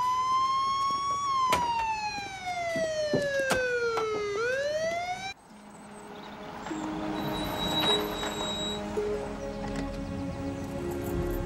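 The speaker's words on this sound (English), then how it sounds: "My siren's stuck again." A stuck police car siren wails loudly up close, its pitch sliding down then sweeping back up, then cutting off abruptly into a busier background with a steady high tone and mixed noise.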